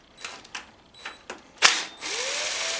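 Ratcheting wrench undoing 10mm bolts on a John Deere 130 mower, several short clicking bursts followed by a sharp metallic clank and a steady hiss.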